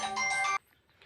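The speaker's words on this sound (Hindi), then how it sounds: "कॉल आ रहा है शायद" An incoming-call phone ringtone plays briefly and fairly close, a bright electronic melody lasting about half a second before cutting off into near silence.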